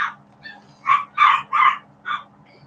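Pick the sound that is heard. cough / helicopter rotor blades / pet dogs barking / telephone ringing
pet dogs barking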